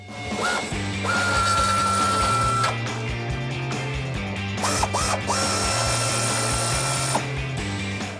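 A power tool spins off the 21mm bolts holding an aftermarket front bumper on a 2010-2014 Ford F150, loud whirring in repeated bursts with metallic clanks and a high whine over it.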